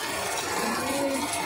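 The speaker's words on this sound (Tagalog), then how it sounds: "Aking bubong. Lakas ng ulan." Heavy rain pours onto a house roof in a steady, dense, loud roar of falling water with no break and no voices.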